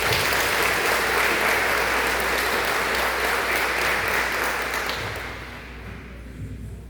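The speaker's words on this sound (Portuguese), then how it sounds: "Uma salva de palmas." A church congregation at a Mass for Saint Anthony breaks into sustained, dense applause that fills the space, holding steady before thinning and fading out near the end.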